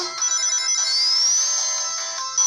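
A mobile phone rings with a steady electronic ringtone, a sustained bright tone with a rising sweep, loud and close, with no talking over it.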